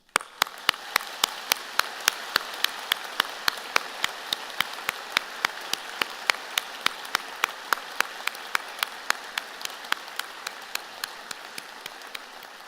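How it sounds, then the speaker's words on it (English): Vigorous audience applause fills a Spring 2025 convocation ceremony hall at Victoria College, a dense, steady wash of many hands with crisp individual claps standing out, sustained throughout before thinning slightly at the end. "join me and the platform party in thanking them with a vigorous round of applause"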